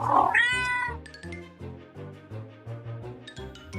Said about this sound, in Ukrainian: Рудий кіт сюди йде, мишеняток він знайде.